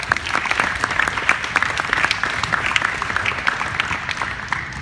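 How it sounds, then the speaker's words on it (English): An audience applauds Coach G, leader of Barefoot Futsal, with brisk, close clapping that keeps an even pace for nearly five seconds and then eases slightly, with no talking over it. "Let's give him a big round of applause."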